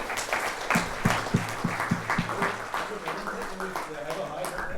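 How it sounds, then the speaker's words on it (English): An audience gives moderate applause for finalist companies at a business event, scattered claps heard at a distance under a presenter's voice. "please give a huge round of applause for each of these companies"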